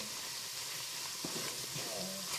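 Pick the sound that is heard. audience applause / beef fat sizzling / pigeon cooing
beef fat sizzling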